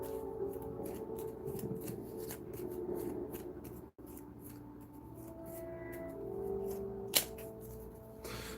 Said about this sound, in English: I'll shuffle and draw 3 more.